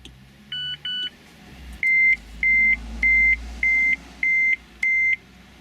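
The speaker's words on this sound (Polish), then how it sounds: "Takie piknięcie." A series of electronic beeps: two short double chirps, then six evenly spaced longer tones in a steady rhythm over a low hum of road noise.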